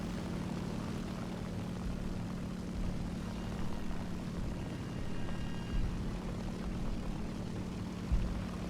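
War Thunder aircraft engine, overheating, drones steadily at moderate level with a constant tonal hum and broad propeller roar, a few small bumps but no breaks, with no talk over it.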